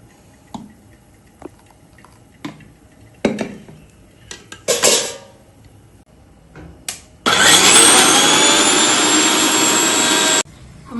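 An electric mixer grinder blends coconut, chilli, turmeric, cumin and curd in a home kitchen, a loud close whirring roar lasting about three seconds after a series of clinks and knocks from the jar being set up.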